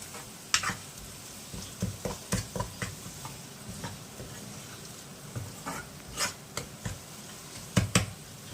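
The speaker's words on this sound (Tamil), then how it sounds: "இதில் சேர்த்துட்டு நல்லா வதக்கி விட்டுக்க போகிறோம்." Ground coriander and garam masala being sautéed in a pan, a soft sizzle running throughout with a series of sharp clicks and scrapes of a spoon stirring against the metal, no voices.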